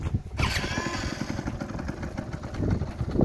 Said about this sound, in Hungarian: hogyha beindítom a motort.